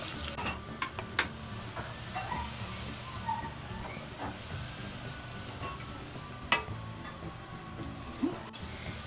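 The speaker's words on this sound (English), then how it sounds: "now we're gonna add some jalapenos chopped up" Chopped jalapenos frying with browned onions and garlic in a tadka for saag, a steady crackling sizzle with occasional sharp clicks and spoon scrapes as the pan is stirred.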